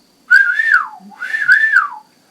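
A person whistles two rising-and-falling swoops imitating the whistle from a retro sports video game intro, clear and close, each about three quarters of a second long.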